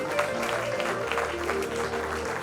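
An audience at a sports awards ceremony in Telangana claps, steady applause filling the space with a low murmur under it.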